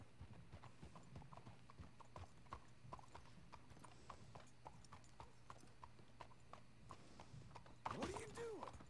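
Horse hooves in Red Dead Redemption 2 as a horse is brought up to a hitching post: a steady clip-clop of close, regular hoofbeats under quiet game talk, ending in a short whinny.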